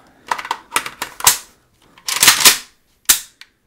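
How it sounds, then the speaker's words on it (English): An AKM rifle's trigger snaps, then a fast magazine change follows: a close, loud run of metallic clicks, clacks and rattles in quick bursts with short pauses between them. "We'll go ahead and squeeze the trigger."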